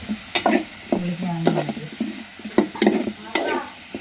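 Onions and tomato sauté in a pan for a Kerala murrel fish curry, a spoon scraping and stirring in quick bursts over a light sizzle, close and fairly loud.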